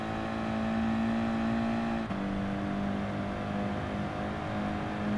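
Racing car engine in Gran Turismo Sport, a steady loud high-pitched drone held at constant revs, with a brief dip as a gear shifts partway through, then continuing to whine.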